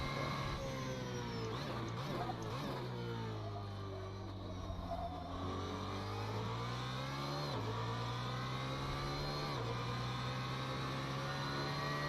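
A GT3 race car engine from a video game drones and revs through laps at Suzuka, the pitch rising and dropping with gear changes and lift-off, loud and continuous with no talk.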